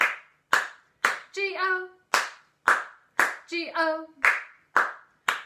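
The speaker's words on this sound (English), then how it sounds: "4 claps this time, just the letter O left at the end" Hands clap in a steady rhythm during the Bingo song at a family storytime, with sharp, evenly spaced claps and a voice singing letters in the gaps between some of them.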